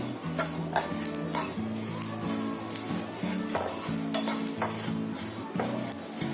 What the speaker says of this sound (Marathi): आता हे सर्व आहे ना गॅस बारीक केलाय आणि सर्व चांगलं भाजून घेते.